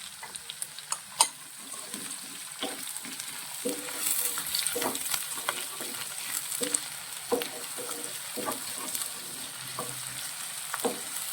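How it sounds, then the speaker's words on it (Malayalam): Ginger, green chilli and garlic frying in oil in a pan, a steady soft sizzle broken by the scrape and clack of stirring. "ഇവിടെ ഇഞ്ചി പച്ചമുളക് വെളുത്തുള്ളി ഇതൊന്ന് നന്നായിട്ട് വഴങ്ങണം"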